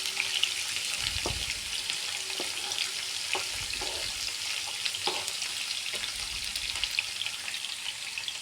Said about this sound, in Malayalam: വെളുത്തുള്ളി നന്നായി ഇളക്കുക